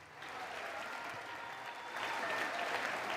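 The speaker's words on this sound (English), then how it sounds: "Right, applause." A room full of people applauding steadily, a dense wash of clapping that swells louder near the end, with no voices standing out.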